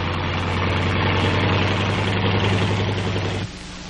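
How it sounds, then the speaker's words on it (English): A heavy air-cooled, airplane-type WW2 tank engine idles steadily with a deep, droning rumble close by, then the sound drops abruptly near the end. "Air-cooled, airplane-type engines power the tanks."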